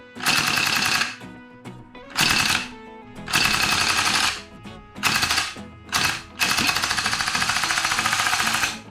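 A VFC M249 airsoft gun running on low gas pressure, its grease stiff and the tank chilled, cycles in about six loud, rapid mechanical bursts separated by short pauses, with the final burst longer and steadily rattling.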